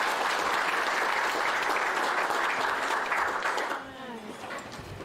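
An audience applauds an emcee at a Hudson River Fishermen's Association event, a dense burst of clapping that carries for several seconds before fading, with a voice speaking over the tail.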